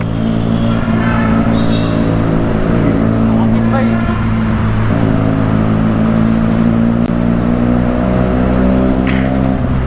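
A loud motorcycle engine hums and revs continuously at close range at a bikers' meetup in Hyderabad, its droning pitch rising and falling, with a voice talking over it.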